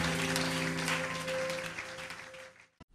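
A church congregation at a Pentecost service claps and cheers for about three seconds, a dense crowd sound over a sustained organ-like tone that cuts off abruptly at the end.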